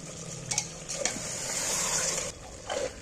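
Mutton stirred and fried in a pressure cooker, a dense close sizzle with spoon scrapes and light knocks against the metal pot, moderately loud and without talk.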